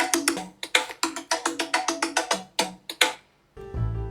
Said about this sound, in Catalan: Això és la meva alarma.